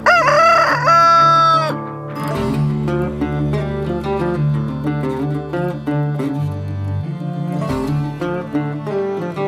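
A rooster crows loudly near the start, with chickens clucking and calling around it in a steady, busy farmyard din.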